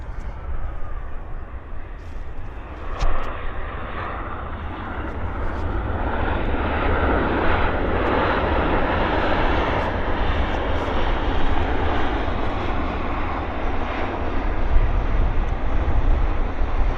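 A WestJet airliner from Calgary lands at Vancouver Airport, its engines a steady, loud broadband roar that holds throughout and swells slightly toward the end, with no talk over it.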